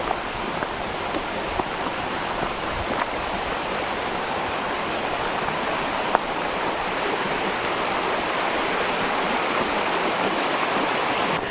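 A creek rushes steadily at a trail water crossing near Seward, Alaska, a constant close wash of flowing water with no break or voices.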